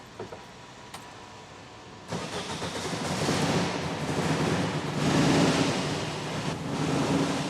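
A classic Dodge Charger with recently fixed electrical and fuel faults cranks briefly, then fires up and settles into a rough, rumbling idle that swells and varies in loudness, heard up close.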